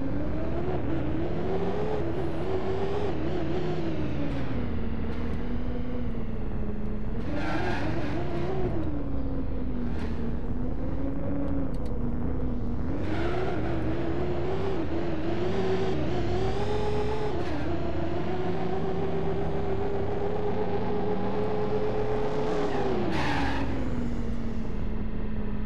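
A car in the space game Star Citizen drifts with a continuous engine whine that rises and falls as it revs. Brief screechy bursts surge through the steady, loud drone, and no one talks.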